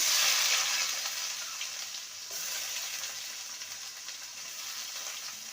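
Chopped medium onion sizzles loudly in hot oil over a tempering of spices while cooking a chichinga (snake gourd) dish, a dense steady hiss that eases slightly after the first seconds.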